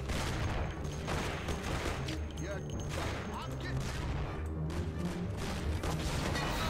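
Pump shotgun fire in the Mafia video game, heavy booming blasts mixed into continuous loud combat noise that fills the whole stretch.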